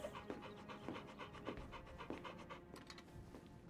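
A dog character in Final Fantasy XVI pants close by in quick, rhythmic, breathy puffs that repeat evenly, quiet and alone.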